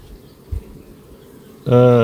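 Quiet low rumbling gives way to a sudden loud, rich buzz of many honeybees droning close by at the hive, steady and dense.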